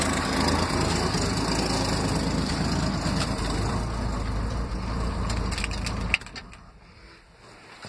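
An old truck engine idles with a steady, loud rumble, then is switched off around six seconds in, leaving quieter background noise.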